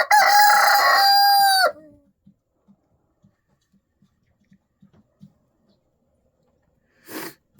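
A rooster crows once loudly and close, a long harsh call lasting nearly two seconds, followed by scattered soft clucks and small sounds, then a short burst of noise near the end.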